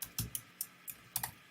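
Typing on a computer keyboard: about eight quick, crisp keystrokes in an uneven rhythm, close and quiet, with no talking.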